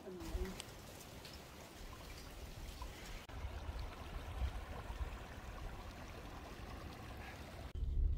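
A small waterfall at Mossy Cave in Bryce Canyon National Park splashes and trickles steadily, a soft continuous rush of falling water heard from nearby, fairly faint, with a low rumble of wind or handling at moments.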